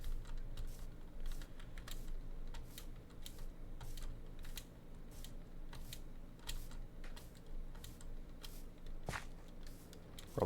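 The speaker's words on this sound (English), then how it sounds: "Probably hear my keyboard as I run." Computer keyboard typing and key clicks during Minecraft play, a steady run of quick taps with occasional louder strikes, close by over a low background hum, with no talking.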